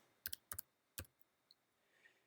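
Quiet keystrokes on a computer keyboard: a few quick clicks in two small bursts, then a single firmer tap and a couple of faint stray clicks in a hushed room.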